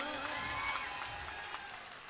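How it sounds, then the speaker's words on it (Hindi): An audience at a political rally breaks into applause, a faint, distant wash of clapping from a crowd that carries on steadily for a couple of seconds. "भगवंत मान जी के लिए एक जबरदस्त तालियां."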